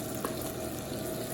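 Brussels sprouts fry and char in a hot pan with a steady, close sizzle that holds at an even level throughout, with no talking.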